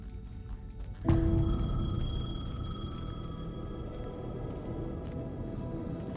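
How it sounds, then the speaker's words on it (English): A payphone rings in the Alan Wake 2 video game, a sustained electronic ring starting abruptly and holding steadily against a low rumbling ambience, with no one talking. "The payphone was ringing."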